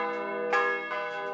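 Large cathedral bells of a restored set in Green Bay swing and peal before a worship service, their rich sustained tones overlapping with two strong strikes ringing out loud and resonant, no voices present.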